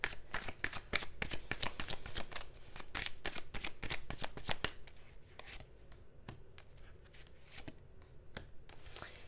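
Tarot cards being shuffled by hand, crisp riffling and flicking bursts close up, busy at first and then thinning to sparse individual card snaps, fairly quiet.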